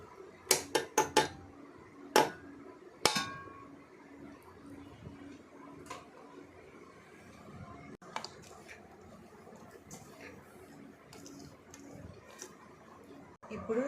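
Ghee-fried raisins and cashews tipped into a pan, with a quick burst of sharp clinks and clatters in the first few seconds, then a low, steady kitchen background with occasional faint taps.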